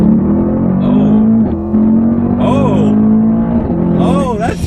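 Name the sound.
Mercedes-AMG E63S engine in sport plus race mode, fast shifts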